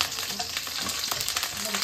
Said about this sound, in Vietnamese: Bỏ tôm vô mình chiên.